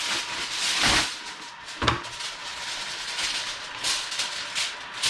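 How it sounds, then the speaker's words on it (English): A pot of water boils in a home kitchen while a cheesecake is being prepared, giving a steady, fairly loud hissing rumble throughout, with a few sharper clunks from nearby handling. "The noise you hear in the background is the water boiling."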